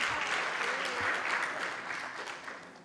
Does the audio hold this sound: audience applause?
yes